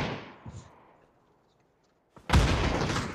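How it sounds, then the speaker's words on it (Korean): A battle royale video game, with a distant shot that fades out, then a stretch of near silence, then a sudden loud burst of gunfire close by near the end. "총소리"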